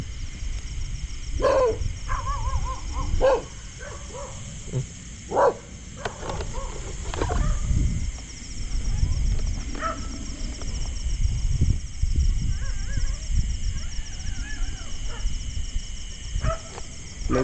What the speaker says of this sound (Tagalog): May bagong aso po din yung natira sa kubo yun.